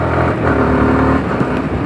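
A Yamaha R15 V3 motorcycle engine revs loudly and close, a dense throaty roar with a buzzing rumble that holds steady through the short burst.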